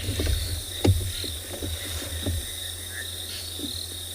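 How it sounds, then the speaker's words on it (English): A steady high cricket trill runs throughout at sunset, with scattered low knocks and faint bird calls beneath it. "Attract a really nice kind of background noise from the crickets."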